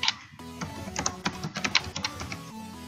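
Quick, close clicking of keys on a computer keyboard while typing into Windows search, in short irregular bursts with brief gaps.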